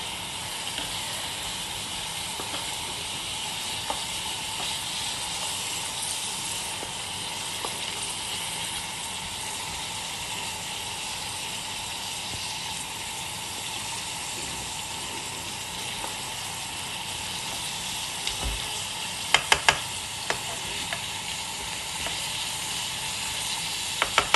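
Chicken pieces fry in oil in a karhai with a loud, steady sizzle and hiss that lasts the whole time, plus a few faint stirring clicks toward the end.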